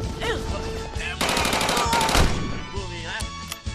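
Rapid machine-gun bursts ring out in an animated Indonesian independence-war battle, loud and repeated, with voices shouting over the fire.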